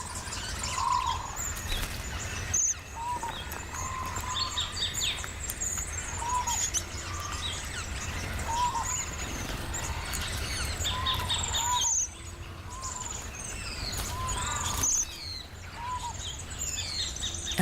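A red-browed finch sings in an Australian wild setting during a courtship display, hopping with a twig or feather. Short high chirps and thin whistles repeat at uneven intervals over a soft outdoor background, and no one speaks.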